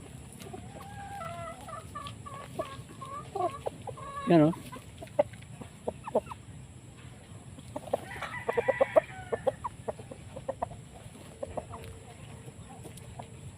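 Heavy crossbred chickens cluck in short, scattered bursts around a farm, with a louder squawk partway through and a cluster of clucks later, while someone speaks briefly nearby.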